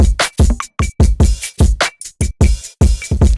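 Layered drum samples punch out a steady groove, loud and close, with a powerful open hi-hat ringing through the kicks and snares and no voices over it.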